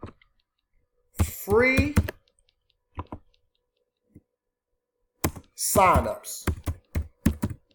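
Bursts of rapid clicky typing on a computer keyboard, quick keystroke runs separated by silent pauses and a few isolated taps, with a voice speaking in between.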